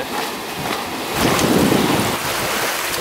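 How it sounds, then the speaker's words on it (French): Wind buffets the microphone from behind while waves wash and surge around a sailboat between the Azores and Madeira, a louder swell of water rising midway before easing back. "Bon, on l'a notre vent dans le dos."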